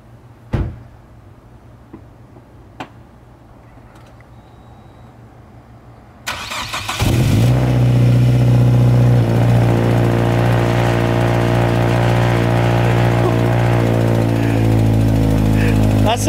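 A car's engine cranks and fires after a few faint clicks and door thuds, then settles into a loud, steady idle and rev that carries on to the end.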